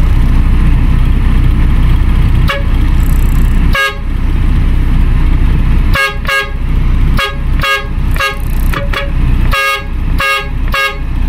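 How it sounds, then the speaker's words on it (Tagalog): A loud truck horn, weakened by a faulty Maruzen magnetic switch, honks in repeated short blasts, first a few isolated toots and then a rapid series, over a low idling engine. "Subukan natin i-busina"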